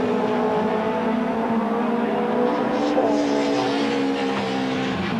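Two BMW touring cars chase a Mitsubishi in a 1990 British Touring Car Championship race, engines droning steadily at a distance in a sustained blended roar with faint commentary underneath.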